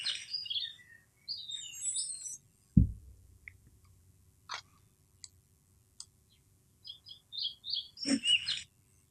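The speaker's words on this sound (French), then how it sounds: "pour l'oiseau, je vais d'abord importer ce SFX là" Bird chirping sound effect imported for an animation: quick bursts of bright chirps open and close the sequence, with a few faint clicks and near silence between, and no voices.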